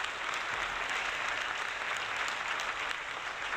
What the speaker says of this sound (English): thank you for that warm welcome, that round of applause.